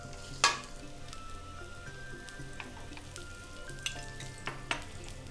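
Thalipeeth frying in desi ghee on a pan, a quiet, steady sizzle with a few sharp spatters and crackles, heard close and alone.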